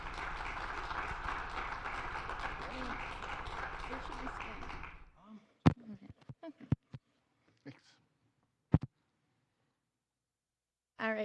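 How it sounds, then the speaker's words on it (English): Audience applause at a law office talk on AI, with a sustained round of clapping for several seconds that fades into a few scattered claps and taps. "So let's give them a round of applause"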